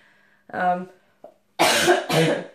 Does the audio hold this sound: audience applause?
no